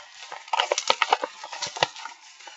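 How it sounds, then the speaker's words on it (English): Paper envelope being torn open by hand, a close, crisp burst of ripping and crinkling with uneven bursts over about two seconds, no talk. "This is the sound of me opening an envelope."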